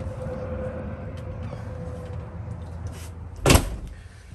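A door closing inside a 2007 Bison four-horse trailer: one sharp, close thud near the end, after quiet room noise.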